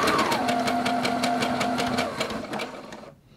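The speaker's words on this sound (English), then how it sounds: "I'm just gonna go ahead and stitch." Sewing machine stitching a button on at high speed, a fast, even mechanical chatter for about three seconds before it slows and stops, loud and close.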